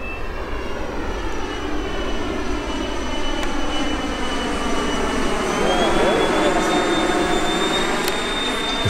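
Model Boeing 787 airliner, radio-controlled with jet engines, flying a pass with full flaps deployed; steady loud turbine whine with rising high-pitched tones, holding continuous throughout.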